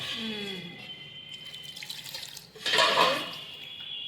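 Water sloshes and trickles as new flattened rice (chira) is rinsed by hand, with a short splashy burst of pouring or stirring midway; no one speaks.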